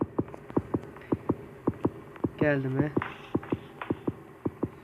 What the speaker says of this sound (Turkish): Kalp atışı niye bitmedi?